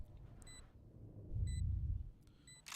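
Electronic beeps from an alarm bot being placed in the game Valorant, short sharp bleeps repeating a few times over a faint low rumble.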